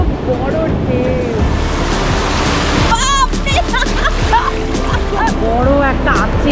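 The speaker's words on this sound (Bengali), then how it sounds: "ওই দেখো কত বড় ঢেউ" Sea waves surge and crash continuously on the beach at Puri, in a loud, roaring wash of surf with wind buffeting the microphone. Faint voices are heard in the background.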